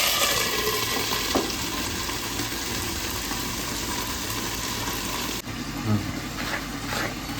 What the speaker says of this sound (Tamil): பீன்ஸும் அவரைக்காவும் வந்து வதங்கிட்டுருக்கு